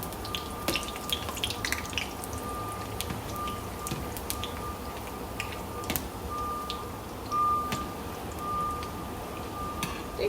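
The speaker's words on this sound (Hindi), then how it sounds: "तो अब इसमें थोड़ा सा हम पानी डालेंगे और इसको स्ट्रेन कर देंगे" Water poured into a pot of cooked rice to strain it gives a continuous close splashing wash, broken by scattered drips and small spatters.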